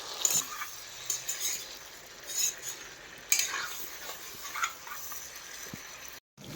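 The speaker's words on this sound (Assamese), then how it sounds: "খাচী মাংস পুৰা ড্ৰাই ফ্ৰাই কৰি আছোঁ" Goat meat dry-frying in a pan, faint sizzling under repeated scraping and clinking of a utensil as it is stirred, in irregular bursts with short pauses.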